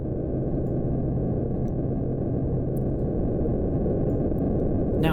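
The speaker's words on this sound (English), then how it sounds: "when you run something at audio rate and it has random elements, what you get is noise" Steady, dense synthesizer noise from a randomly varying oscillator running at audio rate, weighted toward low and middle tones, continuous and unchanging for several seconds with no talking.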